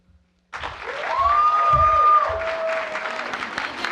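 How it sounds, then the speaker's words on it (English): Audience applause for poetry recitation finalists rises and holds steady, a dense wash of clapping from a crowd, with a sustained tone ringing over it. "Give them one more round of applause."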